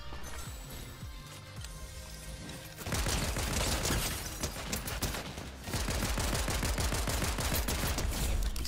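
Pistols fire in a Fortnite game: a quieter stretch gives way to loud, rapid cracking bursts of shots that continue almost nonstop to the end, with no speech.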